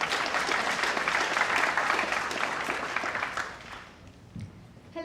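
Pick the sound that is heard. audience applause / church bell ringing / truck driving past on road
audience applause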